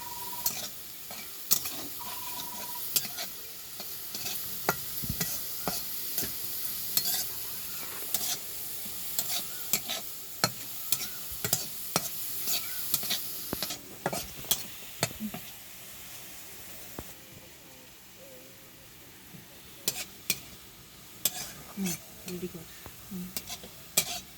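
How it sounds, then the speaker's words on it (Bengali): Potatoes fry gently over a low flame in a pan, a soft continuous sizzle broken by frequent scraping and clinking stirs of a spoon, steady and close throughout. "হালকাভাবে আলুটা একটু একটু করে ভেজে নামাতে হবে"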